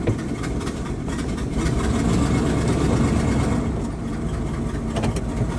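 A 1979 Dodge 100 truck engine with a repaired choke idles cold, a steady close-up low rumble with slight irregular stumbles and faint roughness, running alone without talk.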